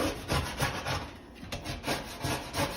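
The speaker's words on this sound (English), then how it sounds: "all this stuff, as you can see, it scrapes right off" A scraper works caked grime off the inside surface of an oven in repeated, rhythmic rasping strokes, close and fairly quiet, with brief pauses between passes.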